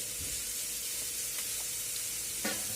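Cabbage Manchurian fries and gets tossed in a pan over a high flame, a constant loud sizzle and hiss broken by a few short clanks and scrapes of the pan, with no talking.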